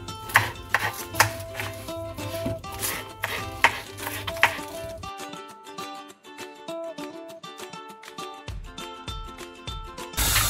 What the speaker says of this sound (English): Just chopping up some cabbage.